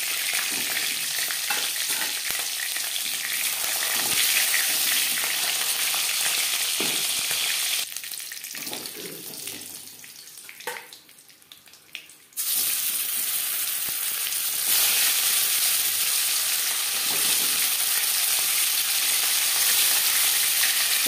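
Steady close sizzling of tuna pieces frying in a pan of oil, with a loud continuous crackle that dips for a few seconds in the middle before returning at full strength.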